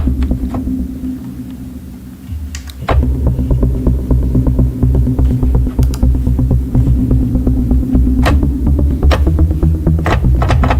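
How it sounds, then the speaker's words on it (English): A low, pulsing melodic techno synthesizer arpeggio repeats steadily under a droning hum, loud and dense, with sharp clicks scattered throughout. "I have this arp."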